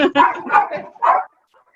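A therapy dog barks close by in a few quick, loud bursts spread over about a second, followed by a short quiet stretch.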